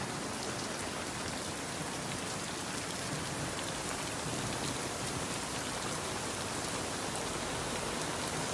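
Torrential rain during a severe storm in Sicily, a dense, unbroken roar of heavy downpour that stays loud and even from start to finish.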